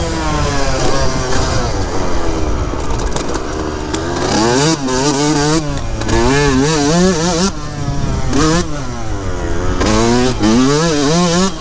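Yamaha YZ125 two-stroke dirt bike engine revving hard and continuously after a carburetor adjustment, loud and close, with rising and falling pitch sweeps as the throttle opens and the bike accelerates through gears.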